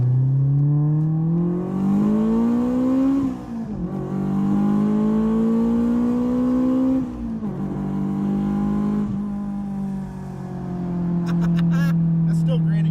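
An AP1 Honda S2000 engine pulls hard through three gears, each rising whine cut by a brief dip at the shift, heard from inside the car with people talking over it.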